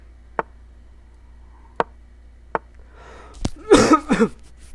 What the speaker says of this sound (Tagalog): may ubo pa rin ako